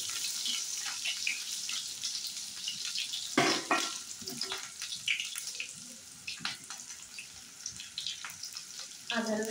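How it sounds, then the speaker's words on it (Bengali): Onions frying in a pan, a steady close sizzle with bursts of crackle and a few louder pops, running continuously with no talking. "আগে পেঁয়াজটা ব্রেস্তা করে নিই"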